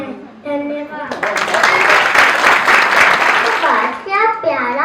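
An audience at a school Grandparents Day celebration in Agra bursts into a few seconds of warm, full applause, with children's voices speaking before and after the clapping.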